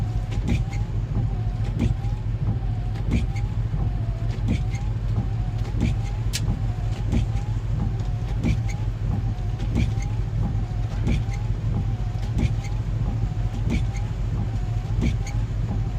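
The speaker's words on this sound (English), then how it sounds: "You love the sound of the windshield wipers?" Windshield wipers on a van during rain, sweeping back and forth in a regular rhythm about once a second over a steady engine idle hum, heard from inside the cab.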